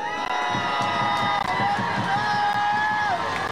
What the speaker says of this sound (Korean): 다시 한번 이 세 분께 뜨거운 함성과 박수 보내주십시오